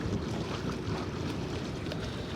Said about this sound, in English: Wow, it's nice wind, perfect wind.